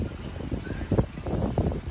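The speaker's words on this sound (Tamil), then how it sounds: "பேய் காற்று" Strong wind gusts outdoors in a forest batter the microphone with low, uneven rumbling bursts, and no one speaks.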